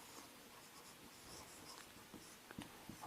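Marker or chalk writing on a board in a quiet lecture: faint, soft strokes and scratches with a few sharper taps near the end, alone without speech.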